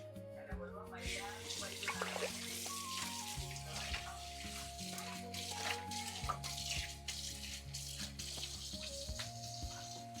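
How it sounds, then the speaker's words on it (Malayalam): A banana leaf is rinsed under a running kitchen tap, with continuous splashing water and occasional clatter while steady music plays behind. "നമുക്ക് വാഴയില ഒന്ന് കഴുകാം."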